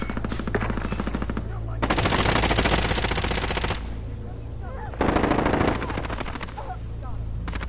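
Rapid automatic gunfire from the Warzone video game crackles in long sustained bursts, loud and close, with short pauses between volleys and faint voices talking underneath.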